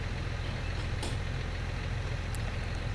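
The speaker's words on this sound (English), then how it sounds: "Looks like a nice robust tractor." A Massey Ferguson tractor drives in the Farming Simulator 19 video game, its engine giving a steady, loud low drone that holds constant throughout.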